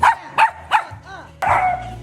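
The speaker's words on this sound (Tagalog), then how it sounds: "Ito yung mga aso ng kapatid kong makukulit. Wala nang ginawa kundi tumahol ng tumahol." Small pet dogs at a family home in Mabitac, Laguna, yap in three quick sharp barks followed by a longer burst of barking, close and loud.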